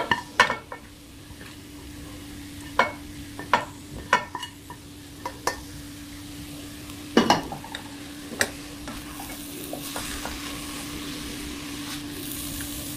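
Chicken shawarma and vegetables stir-frying in a pan, with a steady sizzle under repeated sharp scrapes and clinks of a utensil against the pan at an uneven rhythm, close and fairly loud, with no talking.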